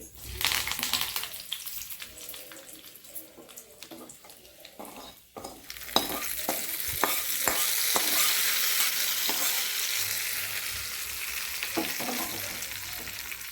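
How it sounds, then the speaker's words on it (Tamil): Chana dal and curry leaves frying in hot oil for a tempering for peanut chutney, scattered spoon scrapes and clinks first, then a sudden loud, sustained hissing sizzle with crackles. "நம்ம கடலைப்பருப்பு போட்டோன்னே ஆஃப் பண்ணிக்கலாம் அந்த எண்ணெயிலே பொறிஞ்சதும் கறிவேப்பிலை போட்டு"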